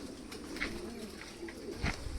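Several soft, low cooing calls from pigeons repeat close by over a faint background, with a few scattered rustles and taps.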